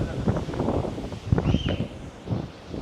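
Wind gusting outdoors on a padel court, buffeting the microphone with rough, uneven rushes of noise and faint rustling.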